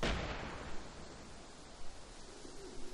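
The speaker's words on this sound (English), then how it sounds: "Oh, we got another explosion." Explosion in the video game Arma 2 DayZ Overpoch, a sharp booming blast at the start that decays into a long rushing tail of noise, with faint later thumps and no talking.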